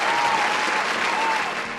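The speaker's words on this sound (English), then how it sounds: "Give her a round of applause." Steady applause from an audience, dense clapping throughout that stays loud from start to finish.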